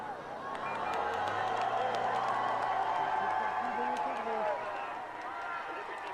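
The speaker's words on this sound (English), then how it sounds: "So to the cheers of the crowd in Créteil" A roadside crowd cheers at the Tour de France in Créteil during the 2011 race, a steady continuous roar of voices and whoops with some clapping.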